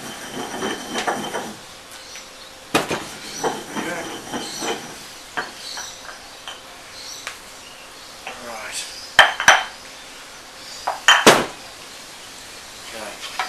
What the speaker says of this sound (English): And just give those onions a stir.